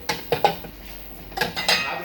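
Ceramic decorative plates, bought at a market stall in Tanta, clink and clatter against each other in a few sharp bursts as they are handled and stacked, close and fairly loud.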